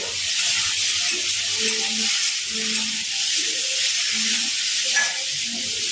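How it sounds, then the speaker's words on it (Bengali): Turmeric being stirred in hot oil for a katla fish curry: a continuous bright sizzle and hiss close up, with faint, irregular stirring scrapes beneath, no talk. "তো হলুদটাকে একটুখানি নেড়ে নেব"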